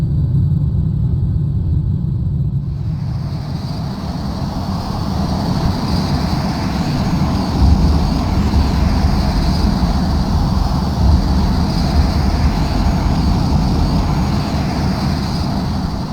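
Panavia Tornado jet flying low at high speed, a loud, continuous roaring rumble of engine and airflow heard from inside, steady throughout with no talk.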